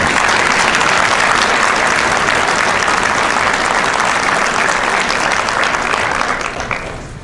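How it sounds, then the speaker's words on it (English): Loud, sustained applause from a big audience at a Days of Remembrance ceremony, many hands clapping together in a thick continuous roar that tapers off at the very end. "Please give another round of applause for the El Paso Jewish Academy."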